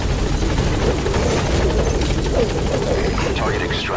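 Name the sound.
helicopter in Metal Gear Solid V video game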